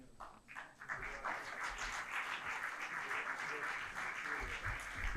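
Crowd applause rises quickly and holds steady at a municipal council installation, greeting the first deputy mayor, a broad wash of clapping from a room of people.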